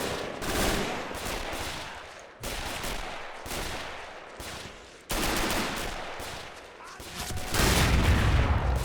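Continuous battlefield gunfire in Men of War: Assault Squad 2, overlapping rifle and machine-gun shots with distant booms, dense and sustained, swelling louder near the end.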